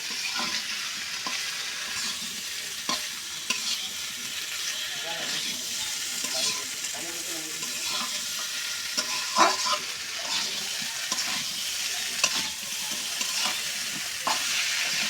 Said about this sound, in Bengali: এখন এখন মশলা সাথে সুন্দর করে মিক্স করে নেব